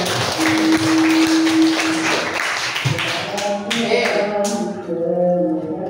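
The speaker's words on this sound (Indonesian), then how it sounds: "Tepuk tangan untuk kita semuanya." A class claps hands during a lesson: a burst of brisk clapping with a sustained tone at first, then thinning into scattered claps as a voice begins speaking over it.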